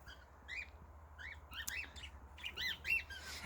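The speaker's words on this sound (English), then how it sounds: "So I got the birds out because they were not wanting to come out." Farm birds, including male reeves, give repeated short squawking calls in uneven bursts, some nearer and louder, over a quiet low hum.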